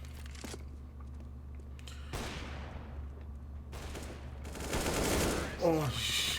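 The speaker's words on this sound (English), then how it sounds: "Oh, machine gun." Bursts of rapid machine gun fire from a Counter-Strike match rattle in short volleys, separated by quieter gaps, with louder sustained firing near the end and commentators talking faintly underneath.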